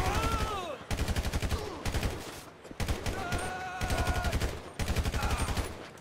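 Rapid automatic gunfire from the video game GTA 5 rattles in repeated bursts of a second or so, loud and close, separated by short pauses with game sound effects between.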